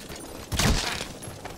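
One close, loud gunshot from a handgun in Metal Gear Solid 5, a single burst with a short ringing tail, and no talk over it.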